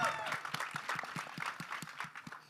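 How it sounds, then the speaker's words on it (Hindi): Audience applause for actor Sunny Deol at a Border 2 teaser launch event, a dense burst of steady crowd clapping with cheering tones, sustained for the whole stretch. "सनी बाजी के लिए एक बार जोरदार ताली होनी चाहिए"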